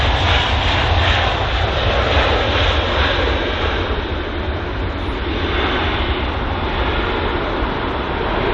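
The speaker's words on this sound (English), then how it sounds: "A319, which is arriving from Zurich on its 1 hour and 31 minute long flight" An Airbus A319 arriving from Zurich at London Heathrow, its engines giving a loud, steady roar that holds near-constant and close.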